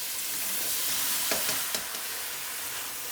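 Cubed aubergines frying with spices in a pan over low gas for a brinjal bhajee, giving a steady, even sizzle broken by a few short clinks of a utensil against the pan.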